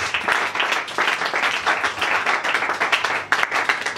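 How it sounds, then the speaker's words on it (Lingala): A church congregation claps and cheers for Jesus during a prophetic sermon, a dense, rhythmic burst of applause from many hands, loud and close, with faint voices mixed in. "Acclamez pour Jésus."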